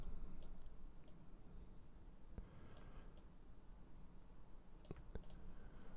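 Computer mouse clicks while copying map items in a game editor, a handful of sharp isolated clicks spaced irregularly over quiet steady background hum.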